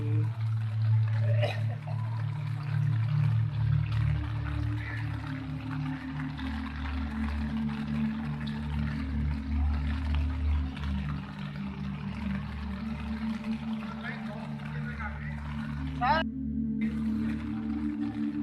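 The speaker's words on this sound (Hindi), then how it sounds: "स्पीड ब्रेकर पे हमारे यहाँ कितना वो इसी लेवल पे पानी चल रहा है" Floodwater after rain in Karachi runs over a street speed breaker with a steady, loud rushing wash and a low rumble underneath, while people talk over it.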